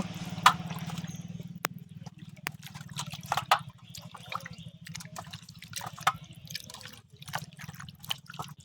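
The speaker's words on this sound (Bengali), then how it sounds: "তো বন্ধুরা আবার একবার জল দিয়ে ধুয়ে নেব" Chicken being rinsed with water by hand, with irregular drips and splashes over a steady low hum, close by and moderately quiet, no talking.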